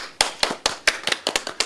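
Hand clapping in a studio setting: a quick, irregular run of about ten sharp, close claps, loud and alone with no talking.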